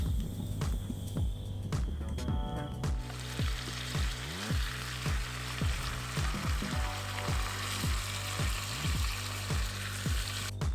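Shrimp scampi and Brussels sprouts frying in a cast iron skillet over a campfire with butter, olive oil and garlic, a steady close sizzle under a rhythmic low throbbing hum.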